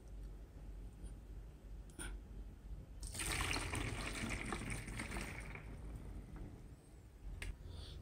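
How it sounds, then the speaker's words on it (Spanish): Water is poured into a homemade lemon and vinegar cleaning mix, a bright splashing pour that rises suddenly partway through and then tails off, with small taps before and after. "Ahora vamos a agregar los 200 mililitros de agua."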